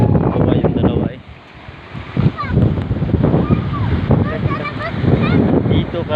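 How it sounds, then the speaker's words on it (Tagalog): Wind and surf wash steadily along a dirty seashore with murky water, rumbling close and rough against the microphone, while people talk over it throughout. "Dito kami sa baybaying dagat na madumi"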